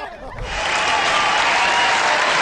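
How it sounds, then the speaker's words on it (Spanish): Crowd at a beach game at Playa Grande in San Bernardo breaks into applause, a dense clatter of clapping that swells after a brief pause and holds steady and loud. "¡Aplauso!"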